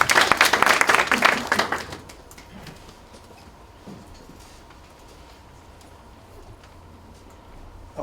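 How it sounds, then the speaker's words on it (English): Audience at the KenGen rights issue bell ringing ceremony applauds as the NSC chairman takes the stage, a loud burst of clapping for about two seconds that fades into quiet room tone with faint ticks. "A round of applause as he comes on stage"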